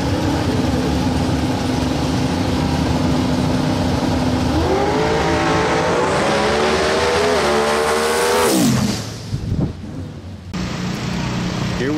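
Drag racing car at Shady Side Dragway on a Saturday afternoon, idling loud and close, then revving up in a rising roar before launching and fading quickly down the strip.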